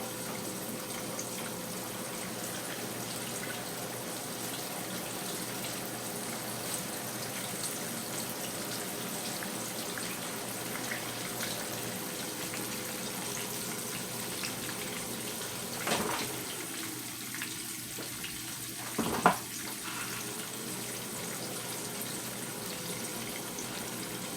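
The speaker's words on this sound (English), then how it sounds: "Wash my hand" Tap water runs steadily into a sink while hands are washed in a kitchen where fish is being fried, a constant gentle splashing stream with a couple of brief louder splashes near the end.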